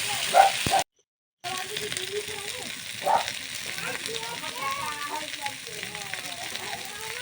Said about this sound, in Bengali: ওর মধ্যে ভেজে রাখা আলু সয়াবিন দিয়ে দিয়ে বেশ কিছুক্ষণ নাড়াচাড়া করে কষিয়ে নেবো